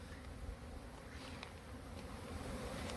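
A continuous buzzing hum of many honeybees flying around a hive, steady and fairly faint throughout.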